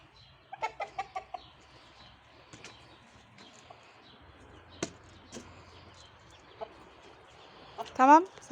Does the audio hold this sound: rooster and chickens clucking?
yes